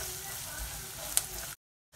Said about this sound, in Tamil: இந்த சாம்பார் பொடி இந்த எண்ணெயிலே நல்லா வணங்கட்டும்.